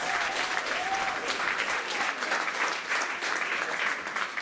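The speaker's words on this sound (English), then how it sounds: "And a round of applause for all of our candidates." A crowd applauding candidates at an event, steady dense clapping throughout, fairly full and close, with a brief voice rising early on.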